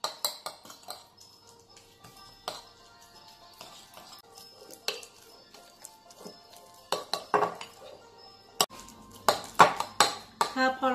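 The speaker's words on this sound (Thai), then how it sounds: "หอมใหญ่และต้นหอมค่ะ ก็คลุกเคล้าให้เข้ากันนะคะ" Onion and spring onion are stirred into a scallop mornay filling with clinks and scrapes of a spoon against a bowl. Irregular clattering bursts grow busier toward the end, close and fairly quiet.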